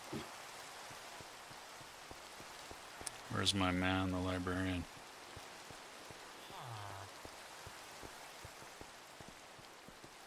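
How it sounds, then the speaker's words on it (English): Steady rain hisses across the whole stretch in a Minecraft world, a soft continuous wash of droplets, while someone talks briefly over it and a short tonal game sound chimes in the background. "It's regular old rain."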